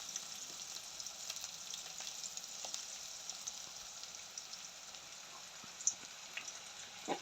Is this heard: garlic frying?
yes